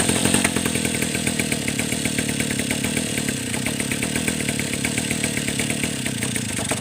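A Mitsubishi TU43 brush cutter engine held at high RPM gives a close, steady buzzing drone with a fast, even pulse and no letup.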